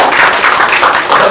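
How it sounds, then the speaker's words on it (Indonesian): Loud, dense applause from a seminar audience at a motivational talk, continuous clapping heard up close and filling the whole moment. "Kasih tepuk tangan dong."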